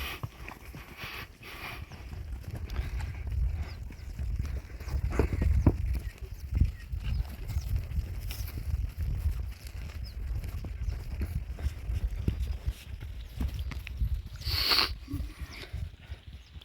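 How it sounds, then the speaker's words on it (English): Horses being led on foot down a hillside in Mongolia, their hooves clip-clopping in a steady, uneven walking rhythm close by, with scuffs and rustles in the outdoor air and no talking. "we had to dismount our horses and walk them down the hill"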